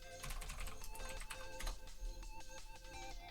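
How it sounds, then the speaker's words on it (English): A search being typed into Google Play on a phone, quick light taps in an uneven run under game music with bright chiming tones, close and fairly quiet. "I'm typing in Google"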